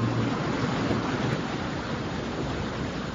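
Seashore waves as a radio drama sound effect: a steady, dense wash of surf with a soft wind-like hiss, continuous and fairly loud, without any voices.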